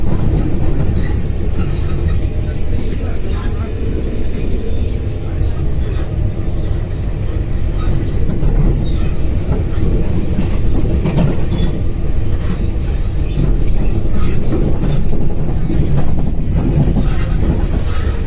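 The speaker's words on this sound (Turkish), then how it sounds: "Trenin gelmesini bekliyoruz şu an." A train arriving at a station in Tunis, Tunisia, rumbles loudly and steadily close by, with continuous wheel and rail noise filling the space throughout.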